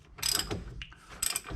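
A ratchet wrench clicks in two quick bursts as it tightens brake caliper bracket bolts on a Ford Taurus, the pawl chatter close and fairly quiet with a brief pause between strokes.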